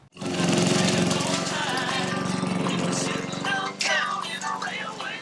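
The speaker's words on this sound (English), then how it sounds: "I'm mowing Vin's lawn." A lawn mower runs steadily close by, a loud continuous engine drone that holds for several seconds, dips briefly, then resumes.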